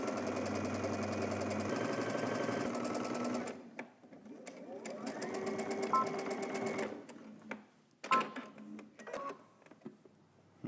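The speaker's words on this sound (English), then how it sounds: "we're going to head to the machine. We're going to stitch using a 1/4 inch seam allowance here" Home sewing machine stitching a robe pocket seam with a quarter-inch seam allowance, close rapid whirring runs in bursts with stops and pauses between them, plus faint handling clicks.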